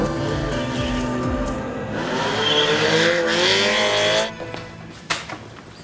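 Car pulling away, its engine revving loudly and climbing in pitch before cutting off, leaving a short thump and quiet.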